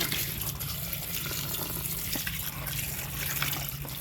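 Tap water pours steadily into a bowl or sink holding peeled taro being washed, a continuous near gush with no talking.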